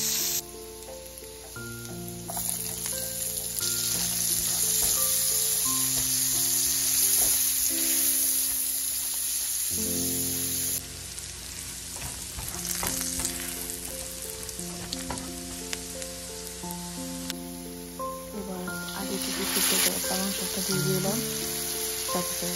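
Onion and garlic sizzle steadily in oil as the base for a spinach dish, a continuous bright frying hiss running under loud background music with no voices.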